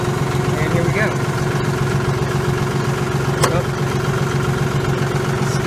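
A John Deere 5065E tractor engine runs steadily at a constant idle-like drone, close and loud, with a brief sharp tone cutting in partway through.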